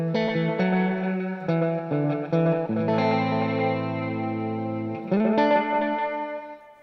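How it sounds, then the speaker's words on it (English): Electric guitar played through a tape echo unit with wow and flutter turned all the way up, chords and notes wavering in pitch with a warbling, slightly distorted, chorus-like tone and echo tails, loud and alone. "To me, that's a pretty authentic, Wow Flutter."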